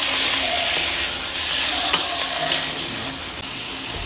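Chicken pieces go into a pan of lightly browned onions for a homestyle chicken stew, giving a steady, close, hissing sizzle that holds throughout.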